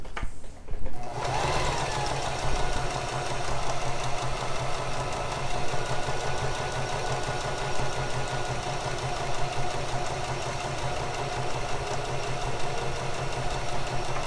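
A sewing machine runs steadily for about thirteen seconds, stitching tucks on a blouse at an unhurried pace, close and continuous after a brief handling noise at the start.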